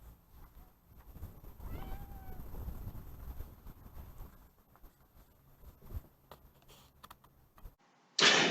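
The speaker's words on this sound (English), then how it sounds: "Hey, kitty cat." A cat meows clearly, a single drawn-out call near the start, followed by quieter household sounds, soft taps and a sharp loud noise at the very end.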